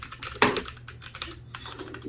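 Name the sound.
typing on a computer keyboard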